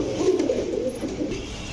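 Pigeons at a bird market, among them a pair kept for breeding, coo in low, soft, rolling calls, close by and continuous, with no voices.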